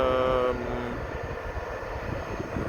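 Vueling Airbus A320 at Amsterdam airport's Aalsmeerbaan runway, a steady broadband jet roar at moderate distance, with a brief tonal whine fading in the first second.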